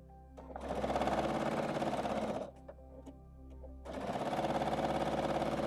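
A sewing machine stitches quilt scraps together in two long, steady runs of rapid mechanical chatter, broken by a short pause with a few light ticks between them.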